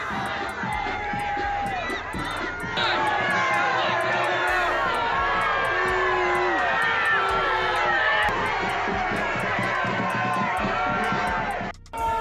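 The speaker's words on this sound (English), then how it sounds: "her own people are booing her" A large crowd boos Maine governor Janet Mills, a dense, sustained roar of many voices with shouts rising out of it, loud and steady for about twelve seconds before a brief dip near the end.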